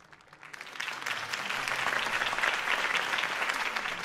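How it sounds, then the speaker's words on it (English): Crowd applause in the Batman Telltale Series video game, following a Harvey Dent campaign speech: a dense wash of clapping from a large audience that swells in over the first second and holds steady and loud. "could have heard that applause"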